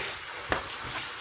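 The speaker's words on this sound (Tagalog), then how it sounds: "So, igigisa ko muna tong patatas at saka carrots." Potatoes and carrots sautéing in hot oil in a home kitchen, giving a soft steady sizzle with a couple of brief clinks or stirring knocks and no talking.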